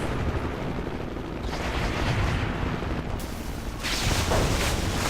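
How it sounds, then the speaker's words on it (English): Anti-aircraft fire thunders in the shooter Renegade X, a dense roaring barrage of rumbling bursts and explosions that swells in two loud waves without letup. "Successful anti-aircraft fire"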